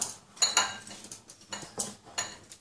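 Chopped chili and ginger are stirred in a bowl, producing a steady series of light spoon taps and clinks at an even rhythm, close and moderately quiet.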